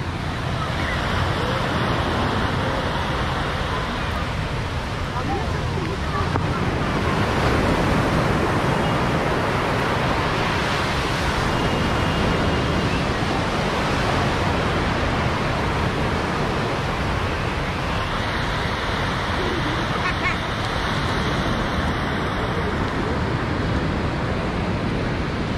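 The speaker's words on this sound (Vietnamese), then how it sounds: "các bạn có thể nghe được tiếng sóng nha" Ocean surf at Hon Chong beach in Nha Trang rolls in a constant loud wash, mixed with wind buffeting the microphone throughout.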